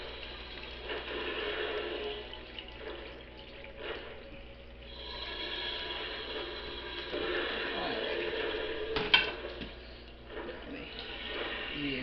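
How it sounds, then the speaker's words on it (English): Water pours and splashes into a container while a pump hums underneath, uneven gurgling surges with a brief louder slosh near the end, and no one speaks. "the pump is on. Now we're going to start putting water in"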